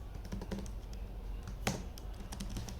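Typing on a computer keyboard while coding a beginner Python calculator, a close run of quick clicky keystrokes in uneven bursts with one sharper louder tap midway and no talk.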